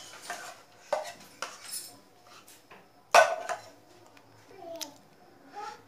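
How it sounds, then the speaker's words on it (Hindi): Crushed cardamom powder is emptied from a grinder into a bowl for sabudana kheer, giving a handful of sharp metallic clinks and taps, close and irregular, with quiet scraping between them. "इसे हम एक बाउल में खाली कर रहे हैं।"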